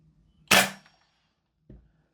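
A single sharp gas blowback shot from a Guns Modify SCAR L MK2 airsoft rifle cracks loud and close, followed by a faint, short mechanical clack about a second later.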